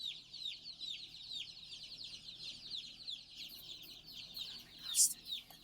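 Two new homestead chickens cluck and chirp close by, a steady run of short high calls with a sharper, louder squawk near the end.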